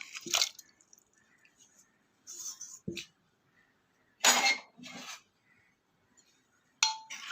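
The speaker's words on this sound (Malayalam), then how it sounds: "അതിലേക്ക് 2 തക്കാളിയും കൂടെ ചേർത്ത് കൊടുക്കാം" Two tomatoes dropped into cooked lentils in a pot: scattered wet squishes and soft clinks of a utensil against the vessel, brief separate bursts with quiet gaps between them.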